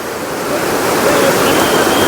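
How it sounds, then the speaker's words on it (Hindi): The fast-flowing Alaknanda river at night near Badrinath, a loud, steady roar of rushing water, close and continuous with no breaks. "पानी देखो भाई साहब कितनी तेज़ चलने लग रहा है।"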